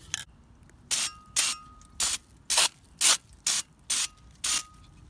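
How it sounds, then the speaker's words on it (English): Aerosol can spraying brake cleaner or black paint on a Mazda Miata part, eight short hissing bursts at an even rhythm, close and loud with quiet gaps between. "So now, some brake cleaner, clean up the dust, and then painting it black."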